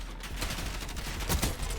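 Rapid gunfire in the video game Black Ops 6, a dense burst of repeated shots cracking close by with no pauses, no talking over it.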